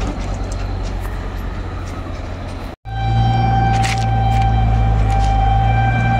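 A local train passing on a railway line near Nashipur bridge, where heavy track machinery is working, giving a loud steady rumble and rolling roar that breaks off briefly and then resumes stronger and closer.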